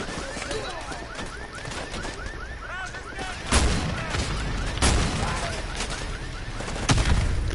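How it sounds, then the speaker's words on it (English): Shotgun blasts in a video game boom out loudly, with several heavy reports spaced a second or so apart over a noisy backdrop of game effects and chirping tones. "Oh, it's a shotgun."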